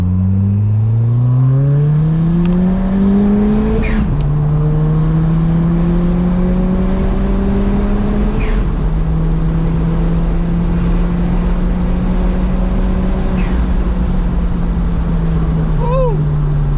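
A hybrid-turbo widebody Ford Fiesta ST pulls hard from second gear at around 2500 rpm. The engine note climbs steadily, drops at two quick upshifts, then holds a loud, sustained drone from the cabin.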